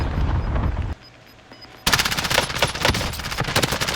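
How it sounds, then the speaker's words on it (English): Video game gunfire in an online shooter match, loud bursts of rapid automatic fire that break off briefly and then resume as dense, sustained shooting close up. "Taking hostile fire."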